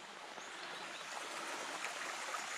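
A small stream below the village of Les Serres, on the GR70 Stevenson trail, rushes in a steady, even broadband flow, moderately close and continuous with no voices.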